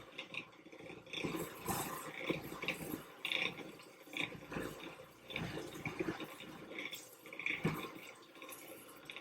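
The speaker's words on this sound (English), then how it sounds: "I need to wash my spatula." Tap water runs and splashes while a spatula used for mixing peanut butter bars is washed at a sink, a soft uneven gurgle with scattered clinks and drips, fairly quiet throughout.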